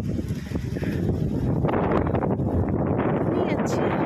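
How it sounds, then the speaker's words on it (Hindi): Wind gusts over a hillside during a climb in Uttarakhand, India, buffeting the microphone in a steady, close, rumbling rush, with a person speaking over the blustery noise. "इतनी अच्छी हवा चल रही है।"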